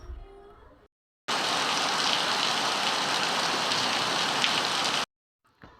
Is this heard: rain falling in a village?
yes